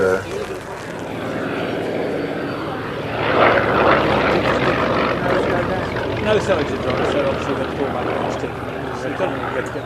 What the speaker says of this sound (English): landing the Curtis, the H-75